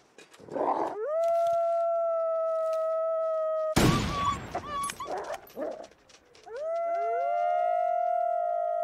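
Wolves in The Long Dark video game, several long sustained howls rising and overlapping, loud and close, broken midway by a sharp burst of noise and short yips before fresh howls swell again; no talking.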